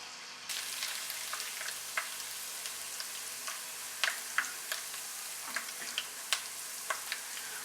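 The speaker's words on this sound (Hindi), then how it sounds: "अब इसमें अदरक लहसुन पेस्ट डालेंगे और इसको फ्राई करेंगे।" Ginger garlic paste frying in half a cup of hot oil in a karahi for keema karahi, a soft continuous sizzle broken by small crackles and spatters, close and fairly quiet.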